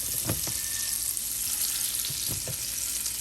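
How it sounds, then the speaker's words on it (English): Butter melting in a hot pan, a dense steady sizzle with a few faint clicks and taps, close up and continuous for about three seconds without voices. "I'm gonna melt the butter in here"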